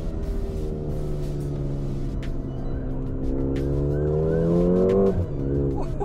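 A new Mercedes car accelerates, its engine note rising steadily under load, then drops sharply near the end as a gear shifts, heard from inside the car.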